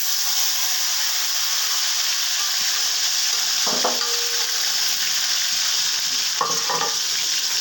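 Boiled jackfruit seeds sizzle in hot oil in a wok, a steady bright frying hiss throughout with a couple of brief scraping stirs, and no talking.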